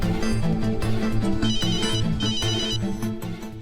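A telephone rings loudly with a repeating electronic ringtone, a steady melodic pattern of short tones with no talking.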